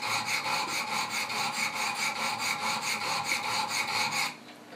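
Rhythmic back-and-forth sharpening strokes of Wicked Edge stones on a Benchmade 940 knife blade, a fast even series of about a dozen raspy passes close up, ending abruptly in quiet.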